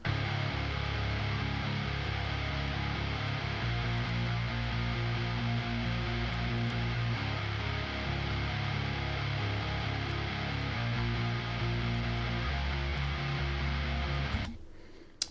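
Rhythm guitars and bass guitar play together in a full mix, the bass supplying the low end beneath dense, sustained guitar chords, loud and steady throughout before cutting off near the end, with no talking.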